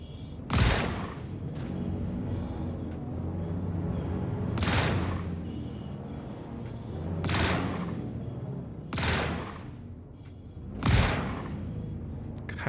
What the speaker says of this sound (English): Dude, the shotguns against these little targets are so bad.